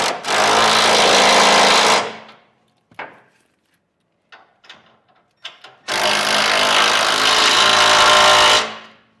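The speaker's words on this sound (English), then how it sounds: "Then tighten up these bolts here, holding the side plates to our cross members." Two loud bursts of a power tool tightening the bolts that hold a B&W fifth wheel hitch's side plates to its cross members on a 2016 Chevrolet Silverado, each running about two to three seconds, with small clanks and handling noises between them.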